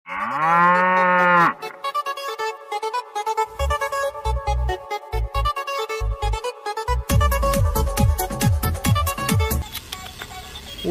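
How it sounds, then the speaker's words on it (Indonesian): A toy cow lets out a loud electronic moo, followed by a jingly toy melody with rhythmic beats and tinkling electronic effects playing on for several seconds. "yang ini sapi."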